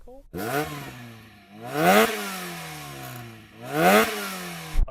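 A sports car engine with an aftermarket exhaust revs hard three times, each rise climbing to a loud roar before dropping back to a rumbling exhaust between bursts.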